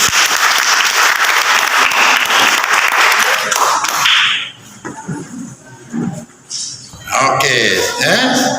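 Audience at a village competition award ceremony claps loudly for about four seconds as a trophy is handed over, then the clapping fades into talk and scattered noise before another burst of clapping.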